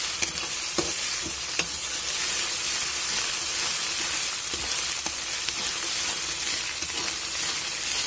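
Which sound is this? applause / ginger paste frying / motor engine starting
ginger paste frying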